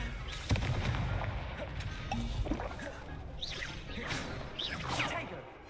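A Confringo fire-spell blast in Hogwarts Legacy: a sharp explosive burst followed by whooshing magical streaks and crackles, fairly loud, over steady game ambience.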